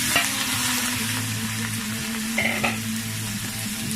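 Eggplant tipped into a spice paste frying in a wok, giving a steady close sizzle with a few scraping stirs and clinks throughout, no voices.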